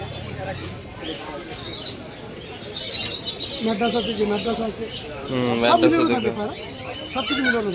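Native Beldanga Giribaz pigeons and other pigeons for sale at the Birnagar market, cooing and chirping close by while people talk loudly over them throughout.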